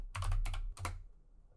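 A few quick clustered keystrokes tapped on a computer keyboard during a software install, close and clear over a low hum, with no talking.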